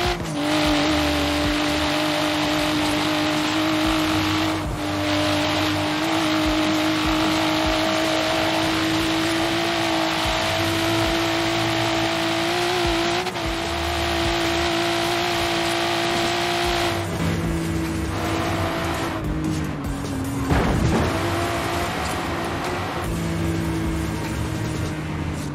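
Car engine in the racing video game Forza Horizon 3, a loud, sustained high-revving drone held almost unchanged for the whole stretch, with a brief shift and dip near the end.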